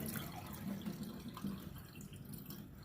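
Water flushes through sprouting bird seed, a faint, steady trickling wash with small splashy spots and no talking.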